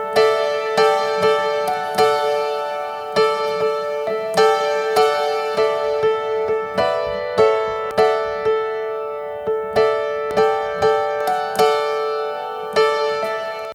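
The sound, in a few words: piano overdub with reduced bass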